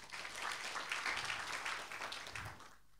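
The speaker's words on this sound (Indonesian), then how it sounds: "Boleh kasih tepuk tangan juga Bapak Ibu Saudara." Church congregation at an online worship service applauds, a soft, distant wash of many hands clapping that swells and then fades out.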